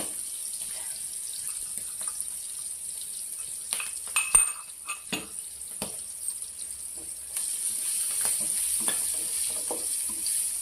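Ginger garlic paste frying in a pan for a beera (ridge gourd) masala curry, with a quiet hiss and a short burst of spatula scrapes and clinks in the middle, then a steadier sizzle. No one speaks.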